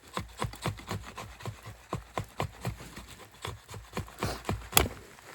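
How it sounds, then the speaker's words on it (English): A knife carves curls from pitch wood in steady, rhythmic scraping strokes, about two or three per second, fairly close and quiet, with a sharper snap near the end and no talking. "What I'm going to do is make a bunch of curls."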